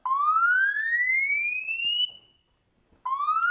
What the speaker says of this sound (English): We have an emergency alarm.